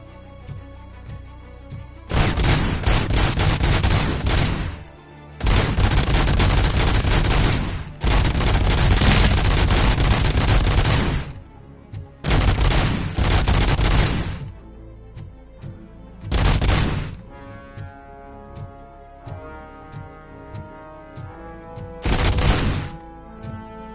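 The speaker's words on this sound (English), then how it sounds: "Auto 9 bullets for everybody." Auto 9 pistol fire in the video game RoboCop: Rogue City comes in loud, sustained bursts of rapid shots lasting several seconds each. Brief pauses separate the bursts, and a steady background game score plays underneath.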